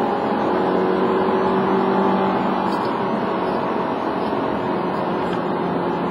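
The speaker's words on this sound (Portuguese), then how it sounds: "vocês ouviram o barulho do motor." Engine of a 2009 Toyota Corolla XEi 1.8 heard from inside the car, a steady, loud, somewhat rough drone as it pulls through the gears, with no talking.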